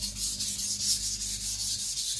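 A Zwilling Five Star compact chef knife is sharpened, its blade sliding against an abrasive surface in a steady, close, scratchy rasp with faint regular strokes.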